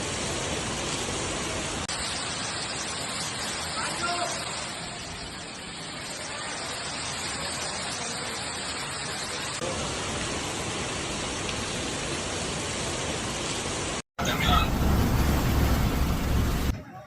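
Heavy rainstorm pouring onto Barcelona city streets, a loud, continuous hiss of rain with traffic rumbling beneath it, then an abrupt cut to an even harsher, louder downpour near the end.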